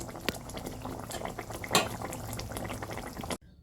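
Pabda fish curry bubbles and simmers in a pan, a close, steady boiling burble with one brief utensil clink midway before the sound cuts off abruptly near the end.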